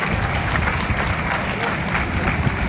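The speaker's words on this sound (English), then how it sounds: "You all deserve a big round of applause." Audience applause for Lagos State waste management (LAWMA) staff at a government equipment unveiling, a steady dense wash of clapping from a large crowd, loud and continuous with some crowd noise mixed in.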